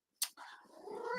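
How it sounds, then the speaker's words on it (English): A house cat gives a single drawn-out meow with a sharp onset, close and fairly quiet against a silent room. "With my cat, but she's not supposed to be here."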